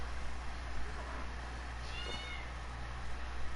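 A cat in the Sims 4 game lets out a loud, drawn-out meowing yowl, one rising and falling cry in the middle of a steady background hum, with no talking over it.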